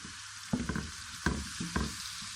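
Cumin seeds hit hot oil in three sharp bursts of sizzle over a steady frying hiss, close and loud, with no talking.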